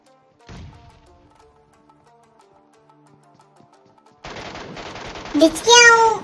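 MK rifle fire in the PUBG Mobile battle game: a single sharp shot, a quiet stretch, then a loud sustained burst of rapid gunfire with a rising ringing tone near the end.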